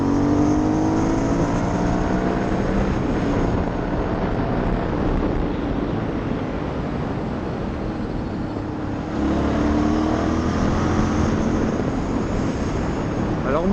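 An Aprilia Shiver 900 roadster rumbles as it is ridden, its exhaust note steady but partly buried under loud, constant wind rush for the whole stretch.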